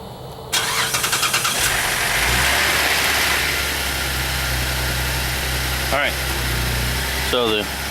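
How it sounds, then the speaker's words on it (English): A Chevrolet Traverse, GMC Acadia or Buick Enclave starts by remote start, a short cranking whirr that catches and settles into a steady close idle, with a few brief squeaky chirps near the end. "So the remote start works again."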